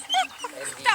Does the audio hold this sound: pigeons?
no